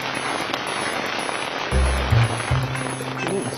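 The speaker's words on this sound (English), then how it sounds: "It's hailing now, hard to see" Hail pattering on a tent during a mountain storm in Colorado's Uncompahgre Wilderness, a dense continuous patter with a few louder low thumps against the fabric, and brief voices underneath.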